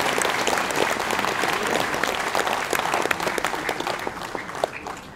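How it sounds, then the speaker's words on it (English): Sustained applause from a ceremony audience honoring World Wood Day 2016 participants, dense steady clapping throughout, loud and close, tapering slightly toward the end with no talk over it. "Let's give a huge round of applause to everyone."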